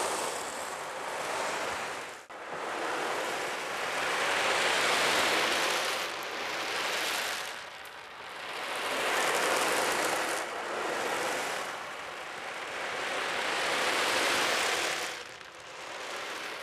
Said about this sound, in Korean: 방금 선생님이 해주신 거 우아한 파도 소리고요